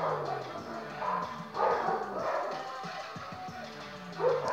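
Several dogs barking repeatedly in short overlapping bursts at moderate distance, with some higher yips, over a steady outdoor background.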